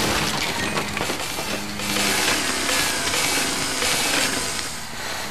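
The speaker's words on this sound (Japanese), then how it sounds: "チェーンソー" A chainsaw in Luigi's Mansion 3 roars continuously and loudly, with harsh rasping and crashing destruction of wood, glass and furniture mixed throughout.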